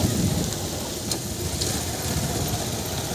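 Heavy rain pours steadily near a waterfall in Kupari, Balasore, a dense, continuous hiss with no break.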